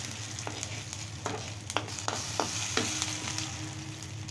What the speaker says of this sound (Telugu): ఫ్రై చేస్తున్నాం మాడకుండా